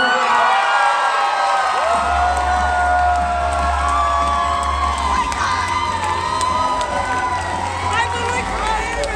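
A crowd cheers and whoops loudly and continuously as a Coach of the Year award is announced, with shouting voices, some high-pitched, packed closely together and staying strong throughout.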